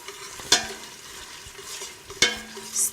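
Spaghetti jollof in a pot is stirred over moderate heat with two distinct scraping knocks against the pot, spaced a couple of seconds apart over a faint, soft sizzle.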